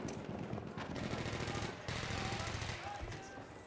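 Rapid gunfire in the World War I shooter Battlefield 1, dense loud bursts of shots crackling continuously with a brief gap midway and a voice faintly underneath.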